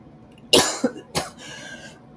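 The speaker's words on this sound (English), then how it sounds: "Something's making me cough." A person coughs a few times in quick succession, close and fairly sharp, with a short breathy pause between bursts and no talking.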